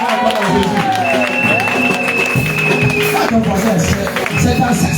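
A church congregation claps and cheers for Jesus, loud continuous applause mixed with voices and shouting, full and near throughout, with a few rising vocal tones over the noise.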